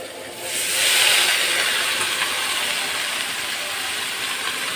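Titas greens dropped into hot oil in a home kitchen pan, a sudden strong hissing sizzle that swells within a second and then holds as a steady, broad frying hiss close by.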